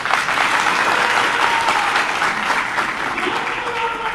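Crowd at a political rally during a nomination speech in Rampur applauding, a dense, steady roar of clapping that holds loud and even from start to finish.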